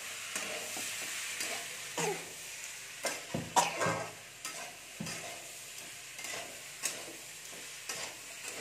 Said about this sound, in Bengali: মটরশুঁটিগুলো দিয়ে দিচ্ছি। মটর কাঁচা মটর এগুলো দিয়ে একটু নেড়ে নেবো আমি।